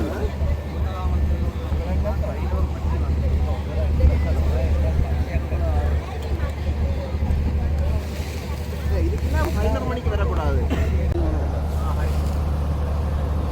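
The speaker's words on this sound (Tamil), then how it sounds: "போட் போய்கொண்டே இருக்கு பாருங்க" A boat motors steadily across open water near a Jaffna island, a constant low engine drone with wind buffeting the microphone while people talk throughout.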